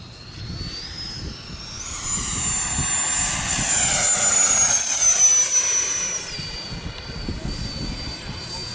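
A Banana Hobbies 105mm L39 RC jet makes a low pass, its turbine whine rising in pitch and loudness as it nears and falling away as it goes, heard outdoors with wind rumble.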